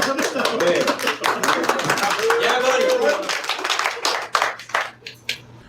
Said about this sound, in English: He loves people clapping.